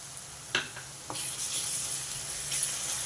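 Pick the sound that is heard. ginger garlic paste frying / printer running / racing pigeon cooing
ginger garlic paste frying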